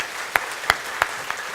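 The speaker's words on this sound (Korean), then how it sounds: "우리 청년부를 위해서 다시 한번 우리 박수 한번 해주시기" A church congregation claps for its youth group in four evenly spaced, sharp unison claps about a third of a second apart over a quiet room hiss.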